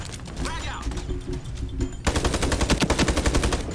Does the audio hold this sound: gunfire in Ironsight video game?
yes